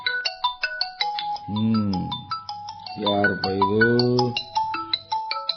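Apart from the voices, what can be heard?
mobile phone ringtone ringing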